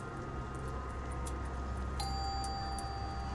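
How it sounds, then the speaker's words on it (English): A single clear chime rings partway through, sustaining a bright tone over a low, steady room hum. "you hear a chime through the room."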